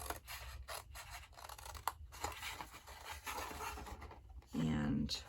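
Card paper being trimmed with scissors for a Christmas gift card box, with crisp close snips and faint rasping strokes in a quiet room, ending in a short louder burst.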